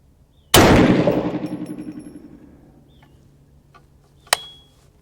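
A 350 Legend rifle fires a handloaded 123-grain soft point round, one sharp loud report rolling into a long fading echo, followed a few seconds later by a second short sharp crack, outdoors with no talking.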